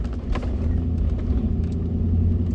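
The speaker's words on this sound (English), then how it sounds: "There's a ton of fire trucks" Several fire trucks on a training exercise drive past, a heavy low engine rumble rolling steadily and fairly loud throughout, with no voices.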